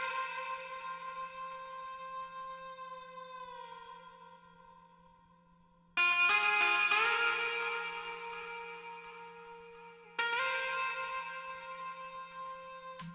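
A distorted, bell-like chord sample with heavy reverb and delay rings out, fades, then is retriggered twice more with bright, echoing attacks over a steady low hum, with no voices.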